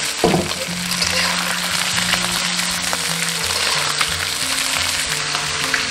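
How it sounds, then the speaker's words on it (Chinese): Fish bones and head fry in hot oil with scallion and ginger, producing a loud, continuous sizzle and crackle close up. A low steady hum runs underneath and no one speaks. "下入鱼骨鱼头，尽量不要去翻动它，让它一面炸至定型"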